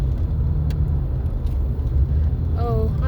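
A car driving along, its engine and road rumble forming a steady low drone throughout, with a brief rising whine near the end.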